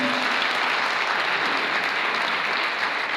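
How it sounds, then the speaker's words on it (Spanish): A church congregation claps in praise during a Spanish-language sermon, a dense, steady burst of many hands applauding together at full volume with no voices rising above it. "Puede aplaudir al Señor."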